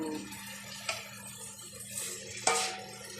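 Cabbage is mixed and dry-cooked in a pan, giving a few soft scrapes and two sharp metallic clinks of utensil against cookware over quiet kitchen background, no voices.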